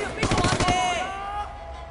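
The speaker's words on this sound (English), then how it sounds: "That guy's got a shotgun!" Shotgun fire in the video game Sleeping Dogs, a rapid cluster of loud blasts near the start followed by ringing tones fading out.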